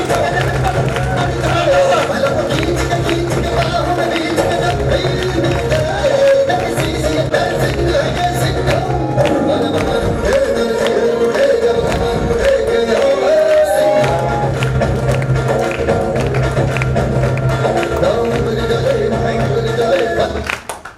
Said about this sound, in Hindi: अपनी सीट पे खड़े होकर जोरदार तालियों से स्वागत किया जाए